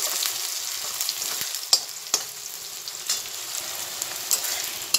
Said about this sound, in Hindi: इस अनियन को हम थोड़ी देर तक फ्राई करेंगे